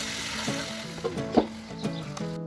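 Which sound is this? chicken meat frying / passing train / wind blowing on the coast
chicken meat frying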